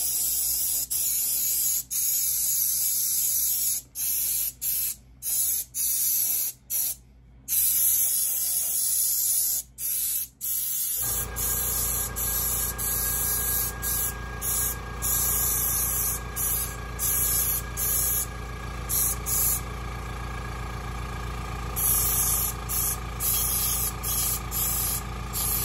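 An airbrush sprays paint onto a Godzilla go-kart model with a steady hiss broken by frequent brief stops, then settles into a continuous hiss over a low hum for the second half.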